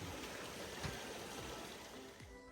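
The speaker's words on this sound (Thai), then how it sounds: "น้ำสายน้ำเส้นนี้ จะไหลผ่าน ทางเดินลงไปน้ำตกทางสวรรค์แล้วก็ไป น้ำตกถ้ำใหญ่นะครับ" A clear stream flows beside the Phu Kradueng hiking trail toward the mountain's waterfalls, giving a faint, continuous gurgle and trickle with no voices.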